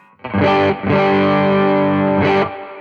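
A distorted electric guitar through a Double Barrel overdrive pedal with some clean signal blended in rings out with thick overdriven chords, sustained and loud, with short gaps between strummed hits.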